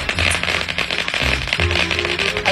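A rapid string of firecrackers goes off, sharp crackling pops bursting in quick irregular succession, loud and close.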